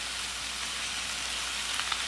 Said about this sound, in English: I'm just going to stir it a little bit just to kind of help the process of the sauteing.